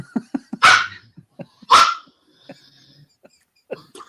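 A dog barks loudly twice at close range, the sharp barks standing out amid quieter scattered yelps and whimpers in an indoor setting during a casual conversation.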